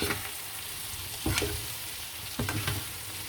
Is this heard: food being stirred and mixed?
yes